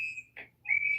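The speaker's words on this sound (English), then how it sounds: "Bystanders are blowing whistles and yelling at federal agents." Shrill whistles blown by bystanders at federal agents during a street confrontation, two steady blasts split by a short gap, fairly faint and with no talk over them.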